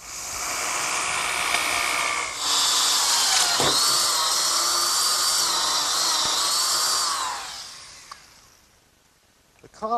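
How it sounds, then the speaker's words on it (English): A power drill with a 1 3/8 bit bores a hole through an oak 2x4 for a bench screw, a close, steady high whine that shifts pitch as it cuts, then winds down near the end. "I'm ready to drill a hole through the 2x4 in oak for my bench screw. And I'll do that with an 1 3/8 bit"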